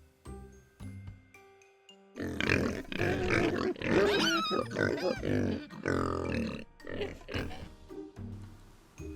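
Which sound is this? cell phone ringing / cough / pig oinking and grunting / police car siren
pig oinking and grunting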